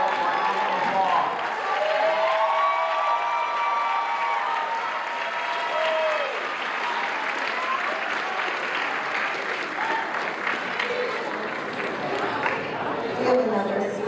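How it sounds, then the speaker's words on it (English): Audience applauds members of the National Junior Honor Society at an 8th grade promotion ceremony, steady sustained clapping from a large crowd filling the room, with some voices and music-like tones mixed in underneath. "Give them all a round of applause."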